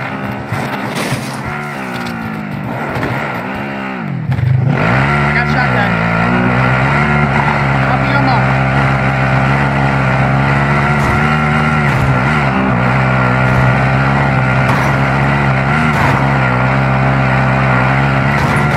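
A vehicle engine drones loud and steady while driving in a video game, its pitch rising and falling with throttle changes after a brief dip, with voices talking faintly over it.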